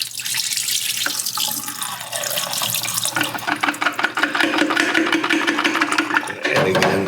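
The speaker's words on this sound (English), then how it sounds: "I'm now going to pour out the developer" Film developer poured out of a developing tank into a sink: a loud, close gurgling rush of liquid that runs steadily for several seconds with splashing bursts and a low hum underneath, no speech.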